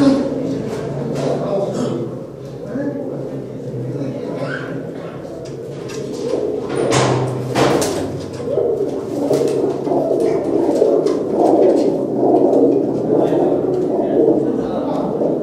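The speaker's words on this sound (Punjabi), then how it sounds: "ਆਓ ਦੇਖਦੇ ਹਾਂ ਜੀ ਆਪਾਂ ਇਹਨਾਂ ਦੇ ਕਬੂਤਰ" Pigeons cooing inside a coop, several soft throaty calls overlapping in an uneven rhythm, close by, with someone talking over them and a brief door clatter.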